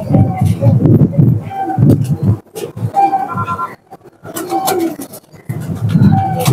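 Broad-chested teddy pigeons coo repeatedly up close in soft, rhythmic, throaty bursts, with someone talking at times.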